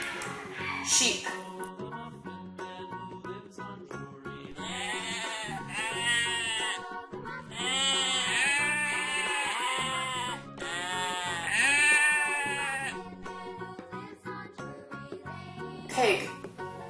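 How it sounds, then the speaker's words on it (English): A sheep bleats repeatedly in wavering, quavering calls, several loud bleats spread across the span and sounding fairly close, with a few brief higher sounds at the start and end. "sheep."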